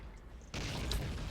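A 25-pounder heavy artillery piece fires in the Men of War: Assault Squad 2 strategy game, a sudden loud boom that rolls into a sustained rumbling roar after a quieter stretch.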